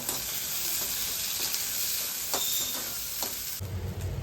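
Garlic, shallots and green chillies sautéing in oil in a pan for a herbal chutney, a loud continuous sizzle with a few soft scrapes of stirring, close up and without talk.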